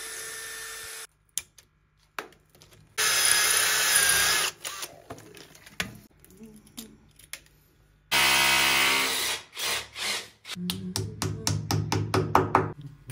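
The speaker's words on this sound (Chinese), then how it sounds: "固定这个混合器呢，是要打孔固定的。 我是画的对角打两个孔。" Power drill boring holes into a bathroom wall to fix a shower mixer, loud close whining bursts separated by short pauses, stops and starts, with knocks and handling clatter toward the end; no talk.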